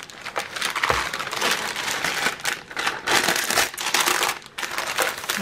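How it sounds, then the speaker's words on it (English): Parchment paper crinkles and crumples continuously as it is wrapped around a pumpkin coffee cream cake roll, giving close, loud rustling with short pauses between handling bursts. "I'm going to wrap this up in my parchment paper."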